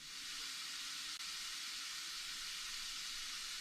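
IRN-BRU fizzing hard in a brewing container while being prepared for a turbo-style cider, a steady, close, continuous carbonation hiss with no talk over it.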